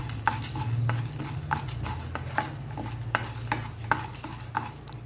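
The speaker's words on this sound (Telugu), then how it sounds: "తీసుకున్న పచ్చిశనగపప్పు మినప్పప్పు వేసి త్వరగా వేయించుకుందామండి" Chana dal and urad dal fry in hot oil with a constant sizzle while a spoon stirs and taps against the pan in a fairly regular rhythm, close and clear.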